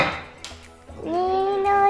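Metal cooking pots and kitchen vessels are handled and set down, giving a few close clanks and knocks with a ringing metallic tone that lingers near the end.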